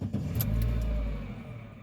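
A Renault Kangoo engine cranking and catching, a short low rumble that swells and settles into a steady idle, heard close up with a faint jingle of keys.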